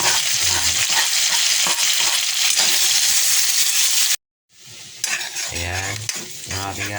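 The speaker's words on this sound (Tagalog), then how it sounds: "Sibuyas unahin natin kasi yung unang nasusunog ang bawang. Sunod na natin ang bawang." Onion and garlic sautéing in a hot pan: a loud, steady sizzle with stirring scrapes, a brief dropout, then renewed crackling frying as more goes in. No one speaks.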